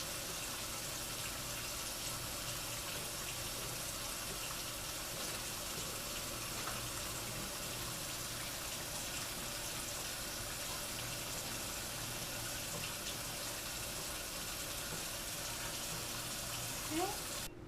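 A tap runs steadily in a clinical setting where someone is being helped into a protective gown. The water makes a constant, fairly faint hiss that carries on unbroken for the whole stretch.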